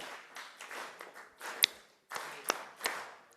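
Congregation at a Unitarian Universalist Sunday service clapping along in a loose, uneven rhythm, sharp individual claps standing out over softer scattered ones, with brief gaps between bursts.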